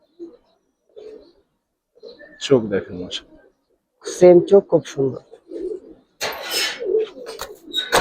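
Flying pigeons kept for sale give soft, low coos in short scattered bursts beneath a voice and a second voice, with the talking clearly dominating.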